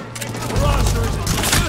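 Gunfire in Medal of Honor crackles in a short, dense burst of rapid shots with thumping low booms, loud and close, over a brief moment of combat.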